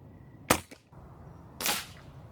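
Benjamin Fortitude air rifle firing, two sharp pops about a second apart, each with a brief bright crack and quick decay, close and fairly loud with no talking.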